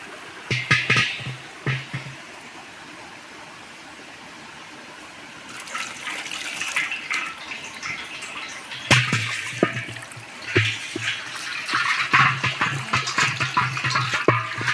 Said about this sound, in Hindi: और भर लेती हूँ पानी।